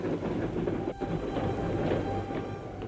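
Troop trains in wartime France rumble steadily, a loud, continuous low rolling noise with faint rhythmic rail clatter and one brief dip, and no voices over it.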